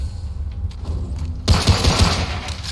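Pistol gunfire in Remnant: From the Ashes starts as low rumbling ambience, then a burst of loud shots and booms breaks in halfway and continues as a dense volley.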